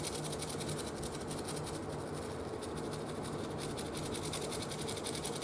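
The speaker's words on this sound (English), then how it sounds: "and give it a good scrub." A toothbrush scrubs Simple Green cleaner along the neck of a Music Man StingRay HH bass guitar. The brushing is a steady, continuous hiss that keeps going without a break and sits close to the listener.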